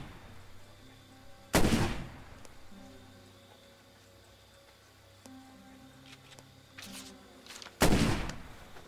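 Shotgun blasts from the zombie survival video game State of Decay, two loud booming shots several seconds apart with quieter shot-like bursts between them, over a low, steady game backdrop.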